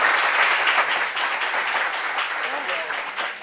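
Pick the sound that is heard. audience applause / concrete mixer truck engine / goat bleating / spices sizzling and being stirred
audience applause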